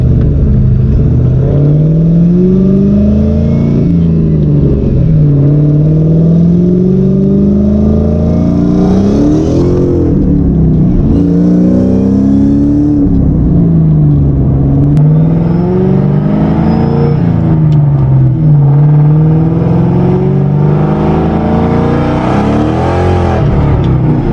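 A supercharged car engine holds a steady rising and falling drone with a sustained supercharger whine riding on top as it pulls under boost, loud and close throughout.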